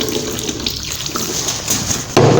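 Laboratory glassware is rinsed under a running tap while preparing Benedict's solution, with water splashing steadily and loudly close by and surging harder near the end.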